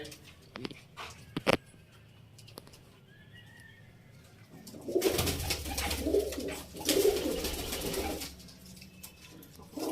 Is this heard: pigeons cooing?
yes